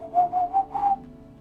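A person's voice imitates a little whistle, producing four short, clear whistled tones in quick succession, close and alone.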